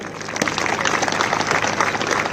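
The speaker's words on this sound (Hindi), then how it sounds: "कृपया तालियों में कमी ना करें।" Spectators at an Indian Army Agniveer passing-out parade applaud, a dense, sustained crowd clapping that holds steady and fairly loud throughout.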